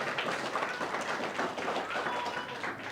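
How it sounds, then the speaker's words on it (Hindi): Audience clapping at a Buddhist vihara gathering in Khaperkheda, Nagpur, a quiet, diffuse patter of hands that runs steadily throughout, faint and somewhat distant. "जोरदार तालियां."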